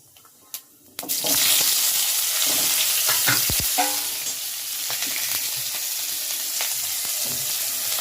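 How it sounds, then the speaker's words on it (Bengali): Vegetable stems hit hot oil tempered with mustard seed and radhuni, bursting into a loud, steady sizzle after a few faint clinks. The frying stays close and continuous, with some stirring scrapes. "এবার আমি ডাঁটাগুলো একটু দিয়ে দেবো।"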